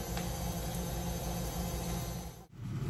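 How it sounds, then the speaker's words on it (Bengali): A washing machine runs with a steady low mechanical hum and broadband whir that hold constant, broken by one brief dip near the end before the drone resumes. "এই যে ওয়াশিং মেশিন ছাড়ছি"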